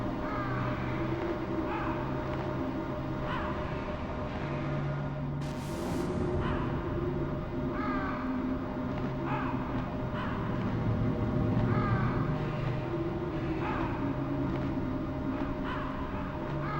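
Crows caw repeatedly in the Metal Gear Solid video game, several separate harsh calls spread through the stretch over a steady low ambient hum and faint background drone, mid-distance and moderately loud.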